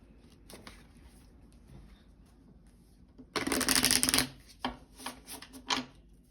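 A deck of affirmation cards is shuffled up close, with soft taps at first, then a loud riffling burst and several shorter shuffling flurries in a quiet room.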